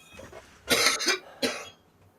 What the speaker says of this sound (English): it is not a productive cough